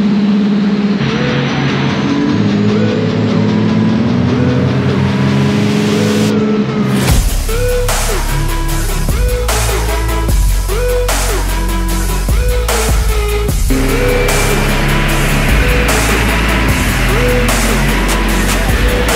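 Turbocharged VR6 Volkswagen Golf running front-wheel drive only on a dyno, its engine droning loudly and then climbing through repeated revs and gear steps, close and continuous with a faint voice briefly underneath.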